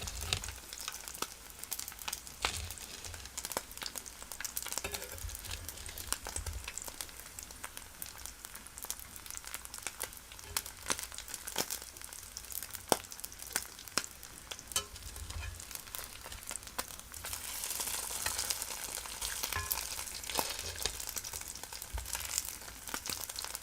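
Bacon fries in a greasy pan, giving a steady crackling sizzle with frequent sharp pops and spatters that run for over twenty seconds with no voices.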